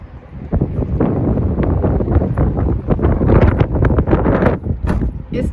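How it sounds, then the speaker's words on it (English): Wind gusts buffet an outdoor microphone in loud, uneven rumbling bursts that continue throughout, with some muffled rustling mixed in. "It's starting to get pretty windy out here."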